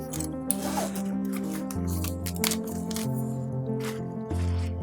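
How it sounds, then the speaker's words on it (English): A zipper on the back of a camera monitor case that doubles as a sun hood is drawn down in a run of short, close rasping strokes, with some handling rustle and no speech. "the back zips down"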